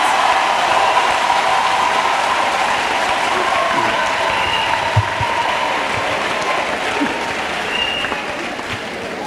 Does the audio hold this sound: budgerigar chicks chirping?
no